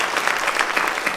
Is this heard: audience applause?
yes